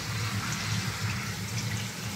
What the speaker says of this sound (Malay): ini saya buka air. Tengok ada keluar air.